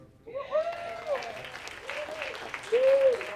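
Applause rises from the audience at an awards ceremony honouring Jamaican excellence, a moderate wash of clapping with a voice talking over it.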